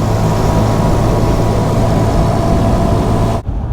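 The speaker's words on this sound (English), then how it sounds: "Every single time me and Eva leave a set of traffic lights, we can't help but race off them" Honda CT125 motorbikes pulling away from traffic lights, a steady loud engine drone with passing road noise that continues for several seconds before cutting off abruptly.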